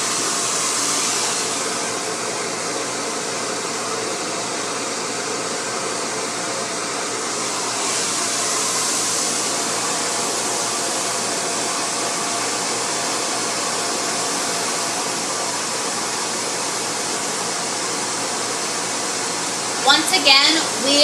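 A professional hair dryer with an 1875-watt motor runs on high heat, giving a steady, loud whooshing blow that swells slightly at times, with a voice talking over it.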